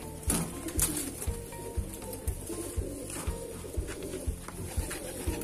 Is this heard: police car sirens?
no